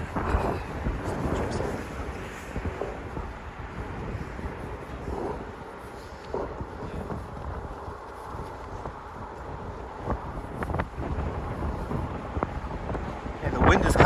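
Gusty wind buffeting a microphone on a snowy Manhattan street near the Standard Hotel, steady low rumbling roar with stronger gusts, under someone talking.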